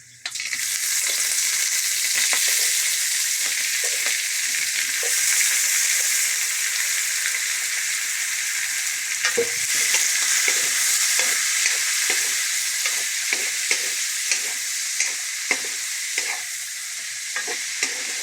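Shrimp for chop suey fry loudly in a pan, a steady bright sizzle held throughout while a utensil stirs and taps the pan in irregular clicks and scrapes close up.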